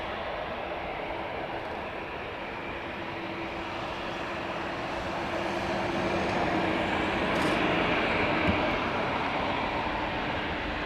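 A Ryanair airliner from Luxembourg at Dublin Airport, a broad, steady jet roar that swells slightly partway through and stays loud, with no talk.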